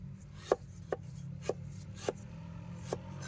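A knife cuts thin slices from a firm bamboo shoot on a board, giving five sharp, sparse chops spaced irregularly over a steady low hum, close and quiet with no talk.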